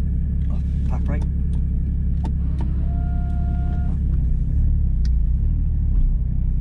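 Porsche GT4 race car pulling away and driving, a heavy steady low engine rumble filling the cabin throughout, with faint clicks and a brief tone over it.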